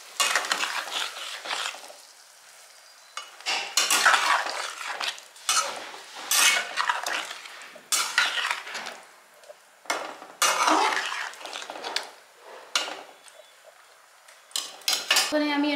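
Paneer cubes are added to a pan of boiling gravy and stirred, giving intermittent bursts of spoon-on-pan clatter and scraping between quieter pauses, close and fairly loud.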